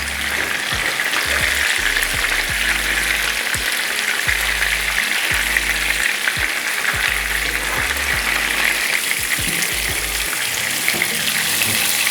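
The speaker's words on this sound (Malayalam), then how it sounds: "ഇനി നമുക്കിതെടുത്ത് മാറ്റിയിട്ട് അടുത്ത ചിക്കൻ ഫ്രൈ ചെയ്തെടുക്കാം." Chicken pieces deep-frying in oil, a loud dense continuous sizzle and bubbling that holds steady for the whole stretch, close and unbroken with faint low knocks underneath.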